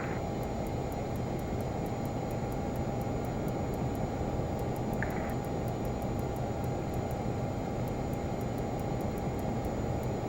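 Flysimware Learjet 35A taxiing in Microsoft Flight Simulator, a steady loud engine roar and whine held throughout with a faint periodic ticking and one brief chirp midway.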